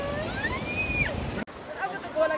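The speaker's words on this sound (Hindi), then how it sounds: "यहाँ पर ये जो वाटरफॉल है या छोटी सी जो नदी बह रही है, इसे कल्प गंगा कहा जाता है" Small mountain stream and waterfall, the Kalpa Ganga at Urgam in Chamoli, Uttarakhand, rushing steadily in the background while people talk over it, with a brief break partway through.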